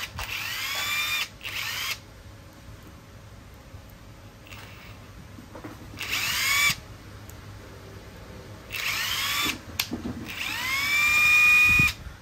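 A high-end brushless cordless screwdriver, model EZ7204, made in Japan and powered by a li-ion battery, runs in four separate bursts. Each whir rises in pitch as the motor spins up and falls as it winds down, with quiet gaps between bursts.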